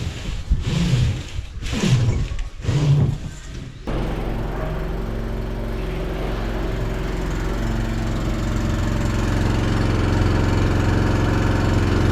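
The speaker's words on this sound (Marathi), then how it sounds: "मग टँकर आलं आपलं" A water tanker truck's engine idles close by with a steady low rumble and hum after a few seconds of other brief sounds at the start.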